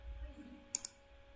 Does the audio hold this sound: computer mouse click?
yes